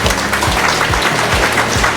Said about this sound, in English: You guys can give it a round of applause.